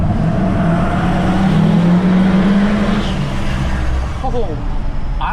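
Ford F450 dually pickup on super single tires grinding along off-road, a loud steady low engine drone with a rising pitch sweep near the start and rough chassis rumble throughout.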